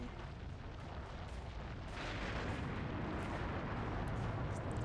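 Cannon fire in the shooter game Serious Sam 3: a dense, continuous roar of blasts and rumbling explosions, loud and close, with no talking.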